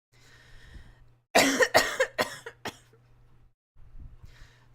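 A burst of four or five harsh coughs in quick succession, close and loud, over a quiet room with a faint low hum.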